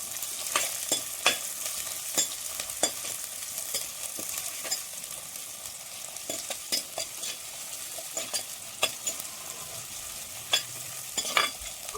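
Shallots and curry leaves sauté in a hot pan for a Kerala-style fish curry, giving a steady close sizzle with repeated sharp scrapes and clinks of a stirring spoon, no voices.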